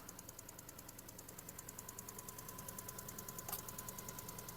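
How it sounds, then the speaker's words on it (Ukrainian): Idling engine of a Skoda Octavia Tour estate imported from Germany, a steady low hum with a faint rhythmic ticking, heard close and alone without talk. "Робота двигуна."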